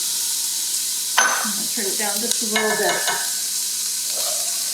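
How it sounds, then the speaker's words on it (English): Chopped onions, about one medium onion, sizzle in olive oil in a hot pot: a steady hiss runs throughout, a stirring scrape comes in the middle, and a person talks over it. "you can hear my pot's nice and hot, so they're sizzling away in here."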